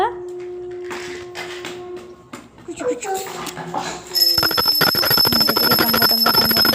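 A bell rings during evening prayer at home, first as sustained tones and then as a dense, rapid, metallic ringing that fills the second half loudly and close, with voices mixed in.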